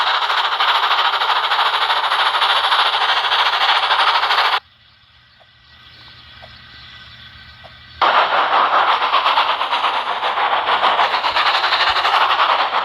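A train rumbles loudly and steadily along the rails, cutting out to a quieter hum for a few seconds before the heavy clatter returns.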